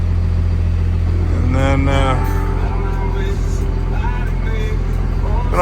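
A car with a swapped engine and six-speed gearbox running on a snowy test drive, its low engine rumble and road noise continuous and loud while someone talks over it.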